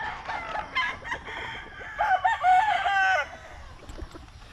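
Chickens clucking and a rooster crowing on a small farm, the crow rising loud and near in the middle over steady background fowl chatter.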